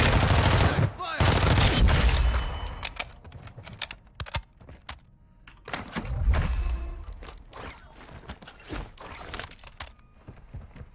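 Video game gunfire in sharp, irregular bursts, with a dense loud volley at the start and scattered shots and rapid rattles that follow at varying strength.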